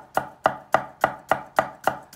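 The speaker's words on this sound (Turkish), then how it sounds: "Şimdi bıçakla doğramaya başladık." Knife chopping on a cutting board, eight crisp evenly spaced thuds in a steady rhythm, close and clear with no talking.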